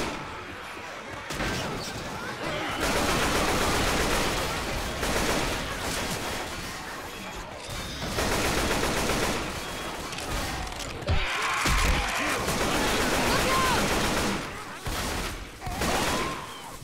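Heavy in-game gunfire from Left 4 Dead 2 comes as dense, continuous bursts and volleys of shots, loud and close, with short pauses at around 1.5 and 11 seconds.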